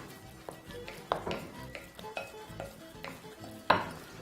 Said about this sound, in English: add that all into the bowl. Simple as that. And all you need to do is just mix that through.